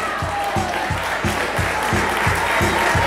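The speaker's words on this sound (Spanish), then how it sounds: "Le vamos a dar un fuerte aplauso." An audience at a national rock tribute performance applauds steadily, a broad wash of clapping with a regular low thump pulsing about twice a second beneath it.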